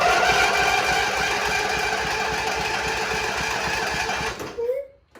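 A free lawnmower's small engine cranks and chugs in a steady, rapid rhythm close to the microphone, then sputters and cuts out near the end.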